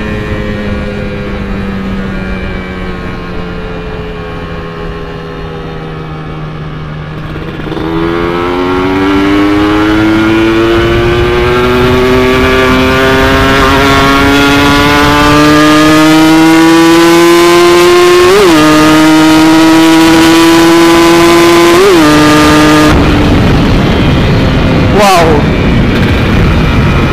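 A motorcycle fitted with a TM32 carburetor riding in sixth gear, its engine droning loudly and steadily close by, pitch rising as it speeds up, with a few sharp blips near the end.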